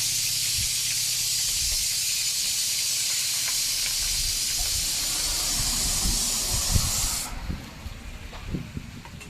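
Onion tossed into hot oil at a roadside dhaba kitchen, a steady loud sizzling hiss that cuts off near the end, leaving scattered clatter and thumps from cooking utensils.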